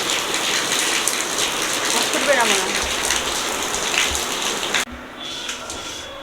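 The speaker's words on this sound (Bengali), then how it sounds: "দশ মিনিট পরে এরকম বৃষ্টি চলে এলো" Steady, dense rain pours down throughout, hissing broadly on surfaces, with a voice speaking briefly underneath; the downpour drops off abruptly near the end.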